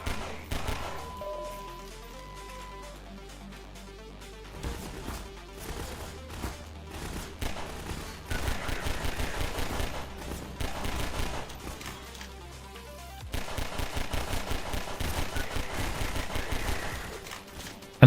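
Bursts of rapid weapon fire in a Garry's Mod match, dense clattering volleys that come in two long stretches over a low droning game backdrop.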